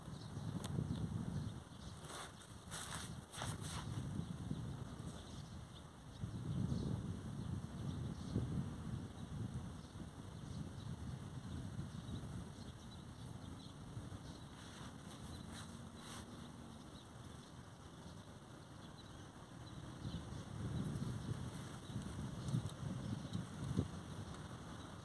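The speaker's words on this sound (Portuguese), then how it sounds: "Ixi, Maria, tá dando vento" Wind buffeting a microphone outdoors while a small 50 cm kite with a brass-weighted line is flown, a continuous rough low rumble swelling in gusts, with occasional crackling bursts and no voices.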